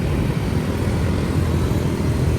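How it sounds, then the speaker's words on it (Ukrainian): Dense rush-hour motorbike traffic on a Vietnamese street, a steady, loud, continuous roar of many engines with no clear individual passes. "П'ята година, час пік, купа байків."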